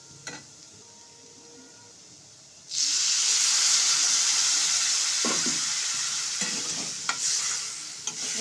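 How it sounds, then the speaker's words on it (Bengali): Water splashes into a pan of potato curry that is already frying. Quiet stovetop noise gives way to a sudden loud, steady sizzle that holds strong and close, with a few clinks of a utensil against the pan. "তো চলো এবার আমি এতে জল দিয়ে দেবো।"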